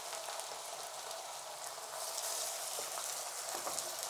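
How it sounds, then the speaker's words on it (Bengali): Ginger and garlic paste fry in oil with onions, a faint, continuous hiss of sizzling that grows a little denser partway through, with no voices. "এখন দিয়ে দিব অল্প একটু আদা বাটা, আর দিব একটু রসুন বাটা।"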